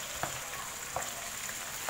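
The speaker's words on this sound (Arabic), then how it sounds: "نخلو هذا البصل والثوم يتقلاو مليح مليح باش يعطونا نتيجة مليحة" Onion and garlic frying with chicken in a pan for a tajine, a steady close sizzle with a few soft stirring clicks.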